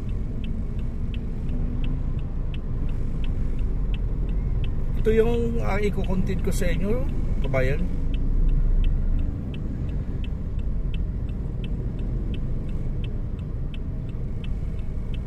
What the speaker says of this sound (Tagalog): Yung mga sasakyan niyan kabayan, galing yan ng EDSA Makati.